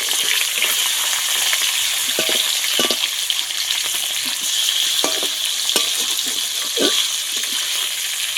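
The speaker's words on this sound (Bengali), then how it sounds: "কয়েকটা কাঁচা লঙ্কা ছেড়ে একটু মুখ ফাটিয়ে নিয়েছি দিয়ে দেবো মাছটাকেও দিয়ে দেবো একটু নেড়ে চেড়ে নেবো" Green chillies and hilsa fish fry in a pan for mustard hilsa, a steady loud sizzle running throughout with intermittent scraping and stirring strokes, no voices.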